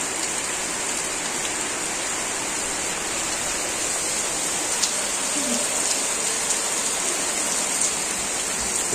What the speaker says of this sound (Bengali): আর এই যে বৃষ্টি ভালোই শুরু হয়েছে